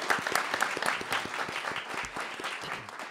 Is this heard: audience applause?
yes